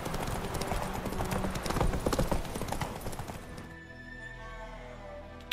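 Hooves clatter in a fast, loud galloping rhythm as a horse runs in the video game The Witcher 3, with a brief neigh-like sound; the galloping fades toward the end, leaving quieter ambient game sound.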